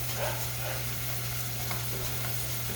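Rice is stirred into onion frying in a pan, making a steady, close sizzle with a low hum underneath and soft scraping as it is moved around, with no voices.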